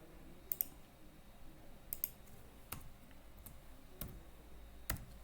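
A computer mouse clicks quietly about half a dozen times at uneven intervals, with sharp, brief taps over a faint background hiss and no voice.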